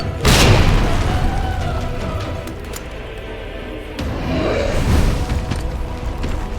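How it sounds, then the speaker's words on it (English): Two grenade blasts in a Resident Evil game, fired in quick succession at the Tyrant, boom loud and close, each followed by a rumbling decay and no talk. "I start to spam my grenade"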